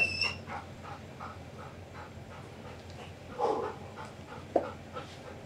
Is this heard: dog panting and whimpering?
yes